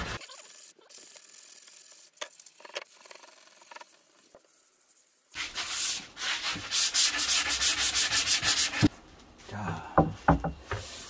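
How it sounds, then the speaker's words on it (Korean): Quiet rubbing at first, then loud rhythmic hand sanding of wood with sandpaper as a finishing pass after machine sanding, a steady run of close scratchy back-and-forth strokes that pause and resume. "손 사포로 이제 마무리를 해줍니다."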